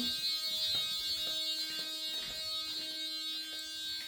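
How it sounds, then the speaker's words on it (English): The headlight buzzer relay of a 1990 Opel Rekord 3.8i CD V6 gives a faint, steady electrical buzz that holds constant throughout with no voices. "My buzzer relay is still working, so headlights on"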